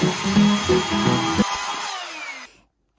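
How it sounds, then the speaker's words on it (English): A power tool whirs loudly in short bursts, then winds down and stops, leaving silence at the end. "Power tools."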